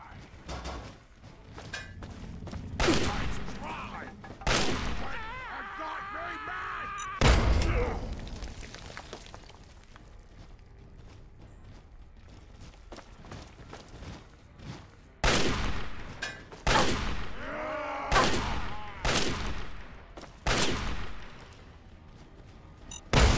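Frag mines detonate amid rapid gunfire in Fallout 3, with repeated sharp blasts and booming thuds in clustered bursts, separated by quieter stretches of game ambience.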